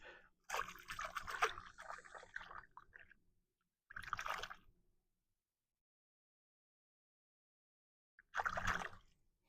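A shell rinsed in canal water in West Palm Beach, Florida, giving a few short bursts of splashing and trickling water separated by silence, close by.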